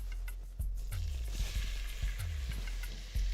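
Finely chopped onions in olive oil in a saucepan for risotto, giving a soft steady sizzle close by, with a few low knocks of stirring against the pan.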